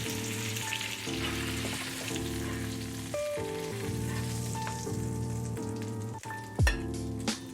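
Steak sears in a hot pan, a steady close sizzle and spatter running the whole time with a soft clatter near the end; no one speaks.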